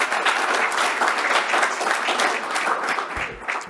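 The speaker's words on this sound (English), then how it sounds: "Let us welcome to the podium with a round of applause." A room full of people applauds steadily, a dense, continuous wash of clapping that holds throughout and begins to thin near the end.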